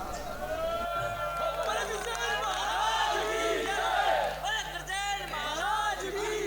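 An audience at a Hindi comic poetry gathering (hasya kavi sammelan) cheers and applauds, with a dense, continuous crowd roar of voices and shouts that stays steady and fairly loud for the whole stretch.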